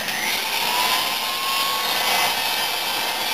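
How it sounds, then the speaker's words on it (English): A tool chamfers the ports of an engine cylinder sleeve at a shallow angle, giving a loud, continuous, even grinding whir with no pauses or speech. "I'm just going to put a nice chamfer on these ports."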